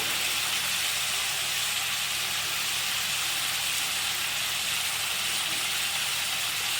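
Meat frying in a pan with turmeric and salt, a steady, loud, even sizzle that hisses continuously throughout with no voices.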